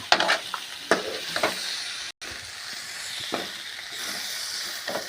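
Shredded cabbage stir-frying in oil for a South Indian poriyal, giving a steady close sizzle broken by occasional scraping stirs in the pan.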